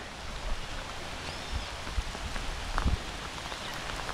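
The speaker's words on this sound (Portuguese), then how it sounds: "Chovendo, gente." Steady rain pours down outdoors in the Amazon, a dense hiss of drops on surfaces with a few louder close splashes, continuous and fairly loud with no talking.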